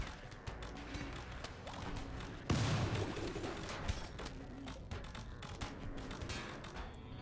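Turret gunfire in RimWorld crackles in rapid bursts over a busy battle ambience, with a louder volley of shots and impacts breaking out midway and sporadic shots continuing after.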